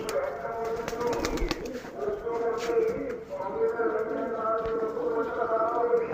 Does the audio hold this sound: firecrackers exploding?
no